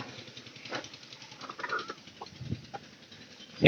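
Soft pigeon coos murmur in a small room among faint rustling and low background hum, ending with a brief louder flutter or knock.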